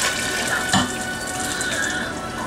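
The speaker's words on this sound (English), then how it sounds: "I'm just adding water just to be about an inch above the last bones" Water pours steadily from a tap into a Cosori electric pressure cooker over chicken bones, a close, continuous splashing rush heard alone for a couple of seconds.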